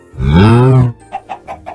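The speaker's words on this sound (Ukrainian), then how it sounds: "ось там корова і ще курка поряд" A long, drawn-out animal call is followed by four short, evenly spaced clucks, sounding like a LEGO Minecraft chicken near the listener.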